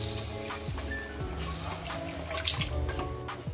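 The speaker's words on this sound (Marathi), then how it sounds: "आपण आता घालूया त्यात गरम पाणी" Hot water pouring into spicy misal curry, a continuous close splashing trickle into the pot with a faint background hum.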